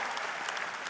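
Political rally crowd in a hall bursting into steady, dense applause, many hands clapping together in a loud, continuous wash with no talking over it.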